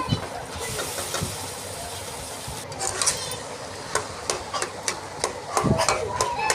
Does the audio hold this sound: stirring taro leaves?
yes